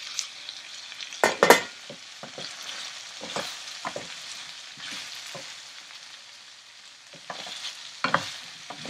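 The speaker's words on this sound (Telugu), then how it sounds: "కూర ఉడుకుతోంది." Andhra-style pumpkin curry in a pot, stirred with scraping and clinking of a spoon over a faint bubbling sizzle; several sharp stirring knocks come and go, no talking.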